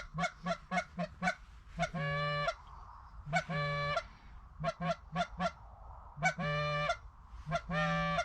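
Geese honking repeatedly during a goose hunt, loud bursts of clustered calls with short pauses between volleys, quite close and alone without talk.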